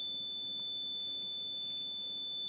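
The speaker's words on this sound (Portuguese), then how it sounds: "O alarme sonoro e o LED vermelho." Keletron 60 A power supply sounding its overvoltage protection alarm, a steady high-pitched electronic tone held quietly and continuously over a low background hum.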